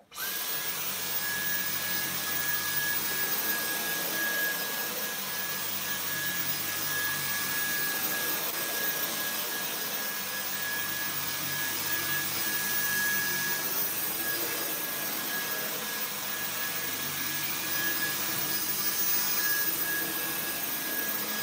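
Dyson V10 Animal cordless stick vacuum running on max power over carpet, a constant loud high-pitched motor whine with a steady tone, alone throughout.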